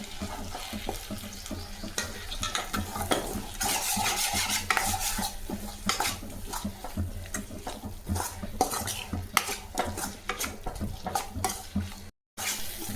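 Egg rice ingredients with salt are sautéed in a pan, a spatula scraping and clinking against the metal in brisk repeated strokes over a soft continuous frying sizzle, close up with no talking.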